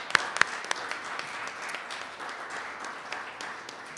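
An audience at an evening celebration for a sustainability plan applauds, a spread of scattered claps with a few sharper close ones standing out over a soft, steady patter.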